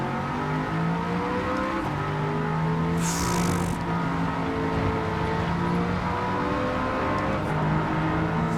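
Audi TT-S Coupe engine driving in Gran Turismo 7, holding a loud steady drone with slowly shifting pitch as it runs through corners in low gear, with a brief hiss near the middle.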